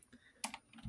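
Keys clatter on a computer keyboard at an old Dell PC, a brief burst of a few quiet, irregular clicks and taps.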